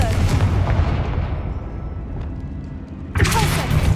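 Confringo fire spell going off in the Hogwarts Legacy video game, a loud booming blast that decays over a few seconds, then a second sharp burst near the end.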